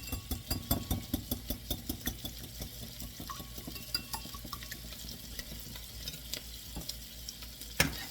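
Eggs with smoked paprika frying in a pan while being stirred, a quiet sizzle under a regular series of scraping taps that loosens into scattered clicks, with one louder knock near the end and no speech.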